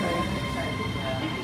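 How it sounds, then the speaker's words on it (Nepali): A train pulls into a station platform in Harrogate, UK, with a steady close rumble and rolling wheel noise filling the moment. "अब एकैछिनमा ट्रेन आउँछ। आइसक्यो ठ्याक्कै, यसैमा जानुपर्छ।"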